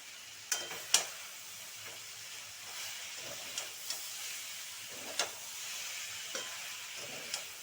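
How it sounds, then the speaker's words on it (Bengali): Shredded cabbage with soybean chunks frying and being stirred in a pan, a steady quiet hiss marked by a few sharp scrapes and clicks of the spoon against the pan. "ঝিরি ঝিরি করে কুচনো বাঁধাকপি দেওয়া হচ্ছে"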